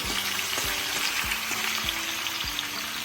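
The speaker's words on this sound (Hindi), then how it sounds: "फ्राई करेंगे इस तरीके से ऑयल में।" Potato pieces fry in hot oil for a spicy crunchy snack, giving a steady, loud sizzle with faint pops of spattering throughout and no talking.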